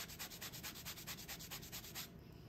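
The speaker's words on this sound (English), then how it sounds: "now I'm going to make my orange juice and get the zest first" Orange zest is grated by hand on a grater, about fifteen quick, even rasping strokes close up, then stopping abruptly.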